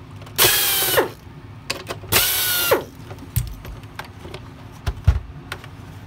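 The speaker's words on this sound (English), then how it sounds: "you gotta switch over to the security Torx to take out a couple more." Security Torx driver removing screws from a Shark NV500 vacuum: two longer ratcheting, whirring bursts of a driver turning, followed by scattered small clicks and taps of handling plastic and screws, close and quiet with no talking.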